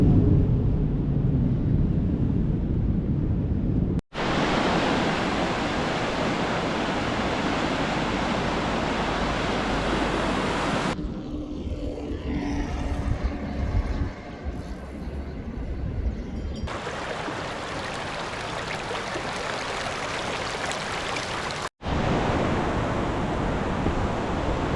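A small mountain river near Wengen, Switzerland rushes in a steady, full broadband roar, heard close and continuous with brief cuts in between.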